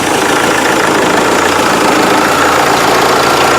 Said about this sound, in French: ensuite on va démarrer le véhicule